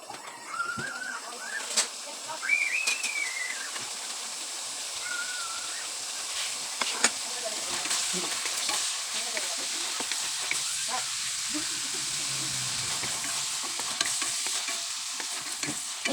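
Pork fries in a pan for Kapampangan kilayin, a soft continuous sizzle with occasional scrapes and clinks of a utensil, while a bird calls in the background and a few faint sounds come and go.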